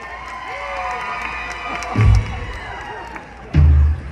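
A live crowd at a show cheers and shouts over steady background music, swelling into two loud bursts of whooping near the middle and end.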